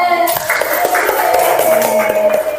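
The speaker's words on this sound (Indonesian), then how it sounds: "Tepuk tangan dulu dong" A fifth-grade class claps for classmates about to act out a role play, a short burst of group clapping mixed with a sustained tone and some voices in the room.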